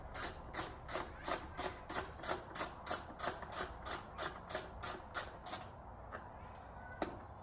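A ratchet wrench backs 10mm nuts off the engine bay cover of a 2020-up Corvette C8, giving a rapid, even series of close clicks for about six seconds, then falling quiet apart from a single knock.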